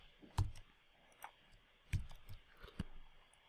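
A computer mouse clicks a few times in Adobe software, with sharp, distinct clicks spaced irregularly over quiet background and faint softer taps between them.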